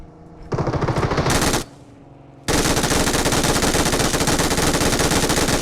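Automatic weapons fire in the battle royale game PUBG: a loud, sustained burst of rapid shots, a brief pause with a short crackle, then a long unbroken stream of close, dense gunfire.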